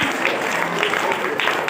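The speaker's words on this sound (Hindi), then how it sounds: "थोड़ा जोरदार ताली बजाओ" An audience claps loudly and continuously for a little girl's dance, dense close applause with no break.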